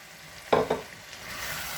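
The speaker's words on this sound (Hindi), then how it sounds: "मिक्स कर लेंगे इसको" Boiled potatoes, half a kilo and cut into pieces, are stirred into a chickpea curry in a pot, giving two quick scraping, squelching stirs close by, followed by a soft steady simmer with no talk.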